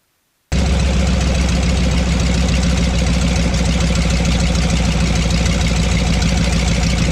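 A Nanchang CJ-6 aircraft engine runs during a magneto check. It kicks in after a moment of silence and then holds a loud, steady, close-up drone with a throbbing low rumble.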